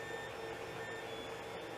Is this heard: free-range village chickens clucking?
no